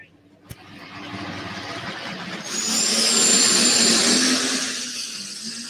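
A pulling tractor from Lindsay, Texas, powered by a 2,240-cubic-inch Rolls-Royce V12 Spitfire aircraft engine, runs with a loud, steady roar that swells to a higher, harsher pitch midway, then eases slightly, with crowd noise underneath.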